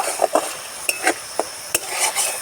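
A utensil stirs food in a pan, scraping and clinking against the metal in several sharp, irregular strokes over a faint background hiss, with no talk.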